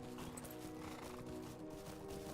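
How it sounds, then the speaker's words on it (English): A horse in the Lord of the Rings Online game clip-clops along, steady hoof beats over a thick layer of game music and ambience, fairly quiet and continuous with no talking. "it's a horse"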